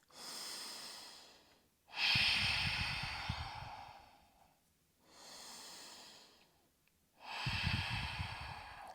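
Slow, deep breathing during a morning yoga flow, with long audible inhales and exhales alternating in a steady rhythm, close and clear with no talking.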